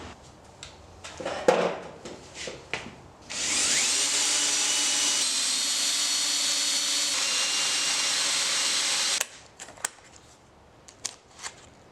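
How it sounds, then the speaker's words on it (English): A power drill whines loudly and steadily for several seconds while drilling pinholes in knife handle scales, bracketed by scattered handling knocks and clatter before and after. "it's time to mark out and drill the pinholes and some extra holes"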